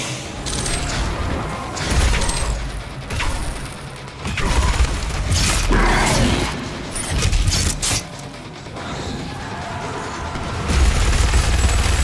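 Heavy gunfire from a weapon in the shooter DOOM Eternal blasts in loud repeated bursts mixed with mechanical clanks and booms, with short lulls between volleys.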